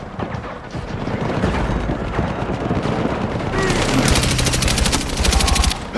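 Heavy, sustained gunfire from the Battlefield 6 video game during a night raid, dense overlapping bursts and booms filling the whole stretch, with rapid automatic fire growing sharper and louder toward the end.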